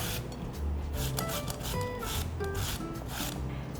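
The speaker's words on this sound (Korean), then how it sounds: "그러면 감자를 갈아 보겠습니다." Potatoes rubbed against a coarse kitchen grater in steady back-and-forth rasping strokes, close and continuous, with no voices.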